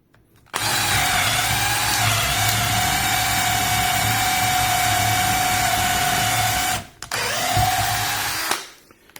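DeWalt cordless drill driver running alone at full speed for about six seconds with a steady whine, stopping briefly, then spinning up again before winding down.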